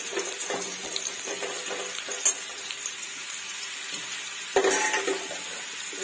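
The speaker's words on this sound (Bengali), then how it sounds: "তেলের মধ্যে 5 ফোড়ন তেজপাতা দিয়ে পেঁপে আর আলুটাকে ভেজে নেব।" Papaya and potato fry in hot oil with five-spice seeds and bay leaf, a steady sizzle under sharp clinks and scrapes of a utensil against the pan.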